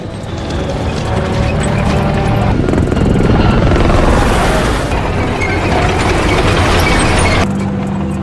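A loud helicopter thrums steadily throughout an action war film attack on a building, its rotor chop mixed with mechanical clatter and crashing noise, dense and close, with no talking.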